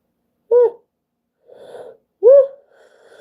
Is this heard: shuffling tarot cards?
no